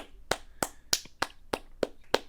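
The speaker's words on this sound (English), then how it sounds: "Let's do another sarcastic clap" A series of seven sharp hand claps, slow and evenly spaced, each crisp and close with quiet gaps between them.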